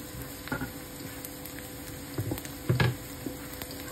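Garlic and onions frying in a pan for bacon adobong sitaw, a soft steady sizzle with scattered louder pops and stirring clatters, nearby and fairly quiet with no talk.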